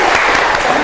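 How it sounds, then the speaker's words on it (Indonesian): Audience applause at an Indonesian Musrembang 2024 awards event, a short, dense burst of clapping filling the room with a murmur of voices underneath. "Tepuk tangan lagi dong."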